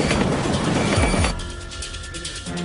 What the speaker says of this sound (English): Signal operators see the runaway train rushing past them.